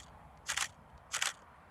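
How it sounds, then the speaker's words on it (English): Two crisp shutter releases from a Nikon D70 digital SLR, each a short double-clack burst about half a second apart from the next, close and fairly quiet with no talking. "Listen to that lovely shutter sound."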